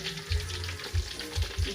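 Dried beef frying in hot oil, a steady crackling sizzle with soft low bubbling pops recurring throughout, close and moderately quiet, no voices.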